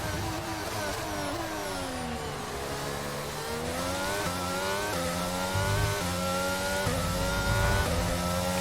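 Formula 1 cars racing at the Bahrain Grand Prix in the F1 22 video game, several high-pitched engines revving and shifting through gears at once, loud and continuous with overlapping pitch sweeps.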